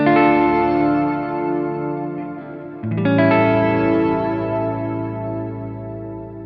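Shimmer reverb from an Encounter Ambient Delay+Reverb pedal, set through its Neuro 3 editor, washes over sustained guitar chords, with bright octave-up overtones blooming and a new chord swelling in midway, loud and alone.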